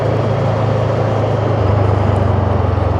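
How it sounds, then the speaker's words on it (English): A Voge 500AC motorcycle engine drones loudly and steadily close by, its low rumble rising in pitch partway through as the revs climb, with no voices present. "we do the obligatory rev bomb"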